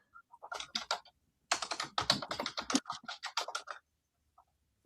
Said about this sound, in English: I'm just letting her finish typing